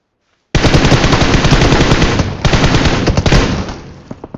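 Sustained rapid automatic gunfire in PUBG Mobile, loud and continuous for about three seconds, then trailing off into a few scattered shots.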